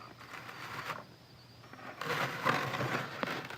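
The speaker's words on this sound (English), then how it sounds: "Apologies for the noise that the polystyrene's making." Polystyrene packing creaks and squeaks while being handled, a run of rough, crackly rubbing bursts that swells louder toward the end, close and with no talk.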